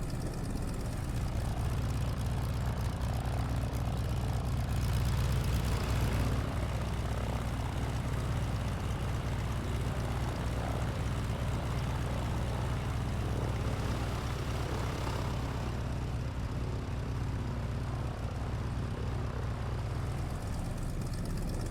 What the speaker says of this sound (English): you can see what this plane sounds like on the ground